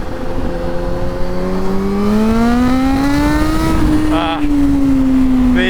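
Kawasaki Z H2 supercharged motorcycle accelerating hard in second gear while lifting into a wheelie, with a loud, close engine note rising steadily in pitch, then briefly dipping and holding under wind noise.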